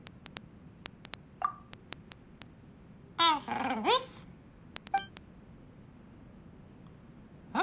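A dog in the video game Genshin Impact gives a short low growl with whimpering tones, set among sparse clicks and a quiet background. No speech is heard.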